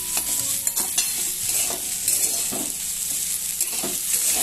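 Rice for khichuri fries and gets stirred in a pan, with a continuous close sizzle broken by repeated scraping strokes of the spoon against the pan's bottom.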